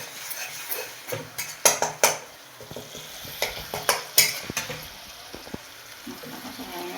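Spice masala being sautéed and stirred in a pan for a rui fish and cauliflower cumin curry, with irregular scraping and clinking of a spoon against the pan over a soft, steady sizzle.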